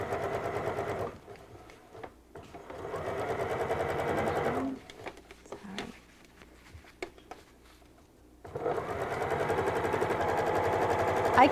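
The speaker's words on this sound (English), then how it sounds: "I keep stitching until my hand reaches the wall, and then stop and pull the cord to shirr the fabric" Sewing machine stitching fabric, a close, fast mechanical whir in steady runs, pausing midway, then resuming loud and continuous.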